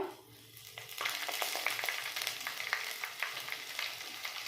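A cup of peanuts fries in a pan, a steady, fairly soft sizzle with faint crackles and light stirring scrapes throughout, close by and with no voices.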